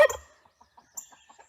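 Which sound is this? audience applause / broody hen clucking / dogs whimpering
broody hen clucking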